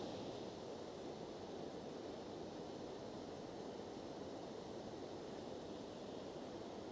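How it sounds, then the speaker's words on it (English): A small waterfall by an old mill at Cramond near Edinburgh gives a steady, even rush of falling water, faint and unbroken throughout. "little waterfall there."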